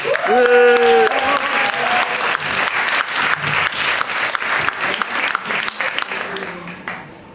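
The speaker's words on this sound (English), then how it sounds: "so round of applause" A party audience claps loudly and steadily, with cheering and voices over the opening seconds, then the applause gradually thins and fades toward the end.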